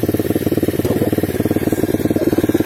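An Apollo 125 RFZ motorcycle engine idles close by with a steady, fast, even throb that holds throughout without revving, and no one speaks.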